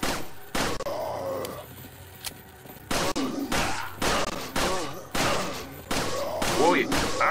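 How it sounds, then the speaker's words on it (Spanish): Glock pistol shots ring out in a Resident Evil 4 battle, a string of sharp, loud reports in uneven clusters, mixed with in-game grunts and groans. "Ahorita, ahorita me lo chingo con la Glock. Con la castigadora Glock."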